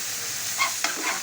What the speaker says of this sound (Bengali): শাকটাকে ভাজি করবো।